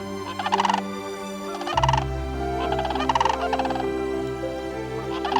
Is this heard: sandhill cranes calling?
yes